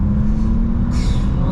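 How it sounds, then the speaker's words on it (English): Bentley W12 engine feeding a titanium Akrapovic exhaust, pulling hard under acceleration as a loud, steady drone with a low hum. Brief and close, with a brighter lift near the end. "this W12 is connected to a titanium Akrapovic exhaust system"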